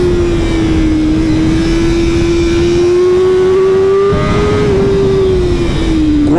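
A 2023 BMW M1000R motorcycle howls at sustained high revs while ridden very fast, a loud steady engine whine with slight pitch swells and a dip near the end, wind roar underneath.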